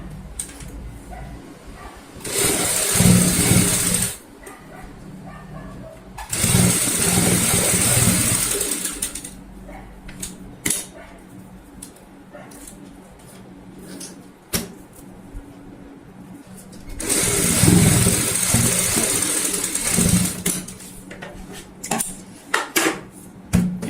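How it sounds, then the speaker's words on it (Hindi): A sewing machine top-stitching a box cushion cover with a zip runs in several loud mechanical bursts, rapid clattering stitches separated by quieter pauses of fabric handling. "अब हम इसको इस तरीके से पलटते हुए ऊपर से सिलाई लगा लेते हैं।"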